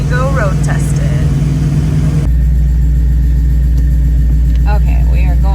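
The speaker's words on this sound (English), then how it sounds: "we are going to road test the car to see how the NVH feels with the new drive shaft" A Ford Mustang S550 with a new drive shaft and Steeda mount drives on a road test, its engine a steady low rumble inside the cabin with brief higher tonal squeaks over the hum.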